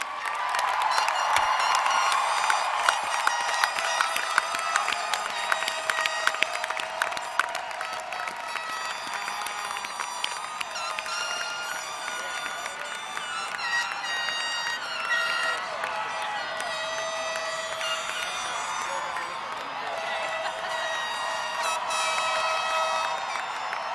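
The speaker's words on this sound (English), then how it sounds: "about a round of applause for the class of 2023?" A high school commencement crowd applauds and cheers for the graduating class of 2023, sustained dense clapping with whoops and shouts rolling on at steady, moderately distant loudness throughout.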